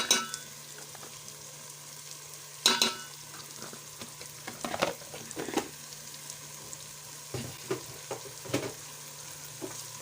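Egg biryani masala with red chili powder and garam masala frying in oil in a pan, a faint soft sizzle broken by scattered scrapes and clicks of stirring, quiet and without speech.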